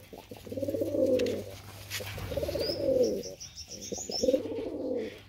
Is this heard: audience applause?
no